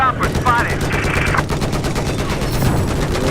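Rapid machine-gun fire from a video game rattles in dense, continuous bursts, loud and close throughout, with game music and effects underneath.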